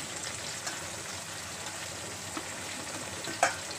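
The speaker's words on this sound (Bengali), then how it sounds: "আলুগুলো ভেজে নেবো লাল করে" Potato pieces fry in a pan for a potato-cauliflower curry, giving a soft, even crackling sizzle at low volume with one light utensil clink near the end; no one speaks.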